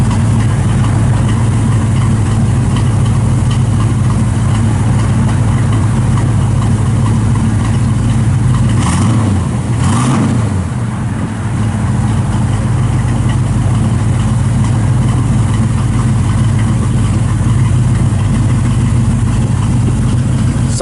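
A 1970 Chevrolet C10 shortbox pickup engine idles steadily and loudly up close, a constant low rumble with a slight dip midway.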